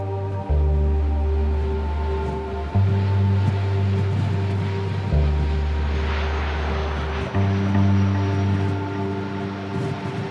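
A propeller airplane landing on the tidal beach runway of Barra in the Hebrides. A loud, close, droning engine hum shifts pitch and level several times as the aircraft approaches and touches down.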